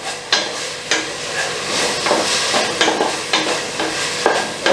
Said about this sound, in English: make sure that the onion is not burning because we are cooking 2 things at the same time